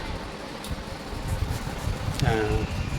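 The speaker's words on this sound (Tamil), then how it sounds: "ஃபேன் சவுண்ட் அதிகமாக இருக்குது" A loud electric fan runs indoors, giving a steady broadband whoosh that stays even throughout, with a faint brief tonal sound near the end.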